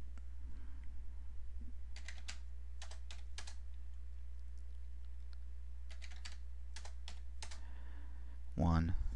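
Fast bursts of typing on a computer keyboard, quick clustered clicks separated by pauses over a steady low electrical hum, with a brief rising tone near the end; no speech.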